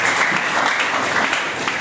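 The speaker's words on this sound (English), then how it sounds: "Please clap for him as well." An audience at a school debate claps for a speaker, a dense, loud burst of applause that fills the whole moment with no talk over it.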